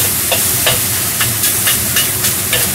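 Meat sizzles loudly in a hot wok for fish-fragrant eggplant while a utensil stirs it in regular scraping strokes, roughly two per second over a constant frying roar.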